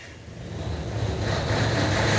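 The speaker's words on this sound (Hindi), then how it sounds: "ये देखो इंजन हमारा भी स्टार्ट हो रहा है।" A 750 kVA diesel generator engine cranks and catches, a broad low rumble that swells steadily and settles into a loud continuous roar nearby, without talk.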